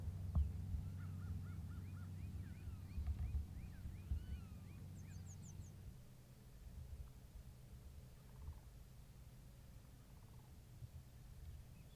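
A flock of wild turkeys, young jakes, toms and hens together, gives off soft clucks, purrs and brief yelps over a low rumble. The calls come in scattered clusters at moderate distance and stay faint throughout, with no talk.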